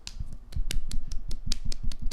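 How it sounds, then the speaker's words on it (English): A hand slaps a thigh in a quick, steady run of close, crisp smacks, each with a soft low thump, repeated about a dozen times with nothing else heard. "I was slapping my thigh because that's just what we do around here"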